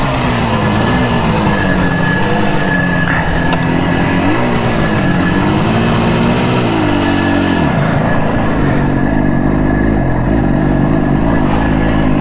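A 1977 Suzuki GT250 two-stroke motorcycle engine idles on choke, a loud, steady, close rumble whose pitch rises and falls a few times with small throttle changes.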